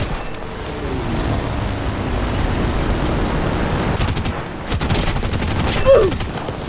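Aircraft guns firing in War Thunder during a biplane dogfight, a dense, continuous rattle of distant gunfire blended with engine drone, steady throughout with a brief louder swell near the end.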